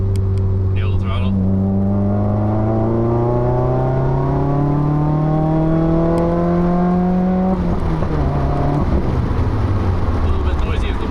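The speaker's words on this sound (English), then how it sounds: "every time I let off the gas between gears, it always does the backfire" A 2015 Subaru WRX pulling hard through the gears from inside the cabin, its engine droning loudly and rising in pitch, then dropping abruptly at a gear change before climbing again, with wind noise and someone talking over it.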